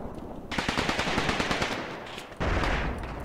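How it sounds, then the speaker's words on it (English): Machine-gun fire in the World War II tactics game Graviteam Tactics: Mius Front comes as dense rapid bursts of shots, loud and continuous, and a heavier blast cuts in near the end. "He's being chased by a lot of bullets."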